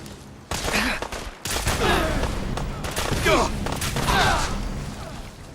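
Gunfire rattles in Fallout 4 with Sim Settlements 2: loud, repeated shots in bursts over several seconds, with a voice talking over parts of it.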